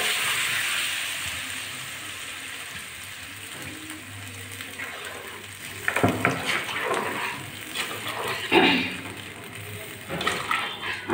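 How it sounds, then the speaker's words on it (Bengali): Water is poured into a pan of frying vegetables for Bengali shukto. Steady background frying gives way to a louder rush and sizzle as the water goes in, with clattering stirs after. "এবার আমি একটু জল দিয়ে দিচ্ছি"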